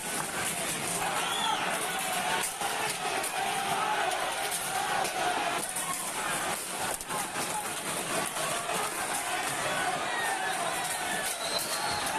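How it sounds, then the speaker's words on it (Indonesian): A crowd brawls at a political rally in a Maracaibo gymnasium, with chairs thrown over the heads of people as they flee. It is a continuous loud roar of shouting and commotion, with scattered sharp knocks and clatters throughout. "Video media sosial menunjukkan kedua kelompok saling melemparkan kursi dengan keras dan orang-orang melarikan diri saat kursi terbang di atas kerumunan."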